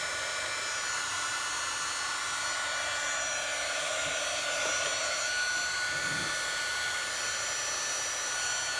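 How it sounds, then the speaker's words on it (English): An embossing heat gun runs as it warms up, giving a loud, steady blowing roar that holds at an even level throughout, with no talking. "Then I'm going to turn on the embossing gun, the heat gun, for a few seconds and let it heat up"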